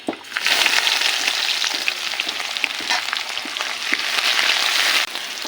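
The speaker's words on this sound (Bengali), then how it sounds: "পেঁয়াজটা এভাবে কিছু সময় ভেজে নিব।" Chopped onion fries with a whole bay leaf in hot oil, giving a dense, even crackling sizzle that continues steadily throughout, with a few small pops and stirring scrapes.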